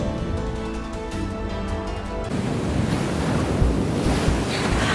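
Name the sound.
ocean waves in the video game Love and Deepspace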